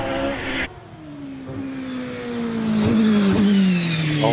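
Pilbeam MP97 hillclimb race car with a 4-litre Judd V8 accelerating on a hillclimb course, its engine note rising in a loud, clear whine as it approaches and pulls away, with a brief gear-change dip along the way.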